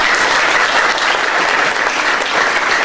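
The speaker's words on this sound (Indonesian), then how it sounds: "Sekali lagi tepuk tangan untuk" An audience at a book discussion gives a full, steady round of applause, dense clapping filling the room at close range throughout.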